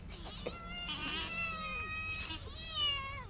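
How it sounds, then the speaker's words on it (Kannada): Several cats yowl and meow together in a continuous, rising and falling chorus, moderately loud and close, with no talk. "ಬೆಕ್ಕುಗಳ ಬೊಬ್ಬೆ"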